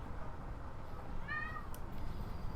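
A pet cat gives a single clear meow, rising then falling, heard near the microphone over a steady low hum.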